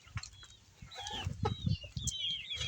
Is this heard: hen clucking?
yes